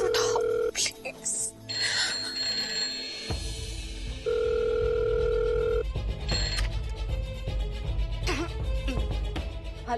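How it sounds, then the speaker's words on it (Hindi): A telephone rings over a line in a Hindi TV drama, repeated ringing tones under tense background music and effects, fairly loud and recurring through the stretch. "फोन उठाओ प्लीज प्लीज प्लीज प्लीज, कोई फोन उठाओ प्लीज।"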